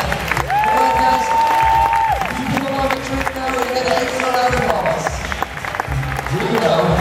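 A crowd at the European Juggling Convention games in Almere applauds and cheers a juggler, with clapping and crowd noise under loud voices calling out, including long sustained shouts.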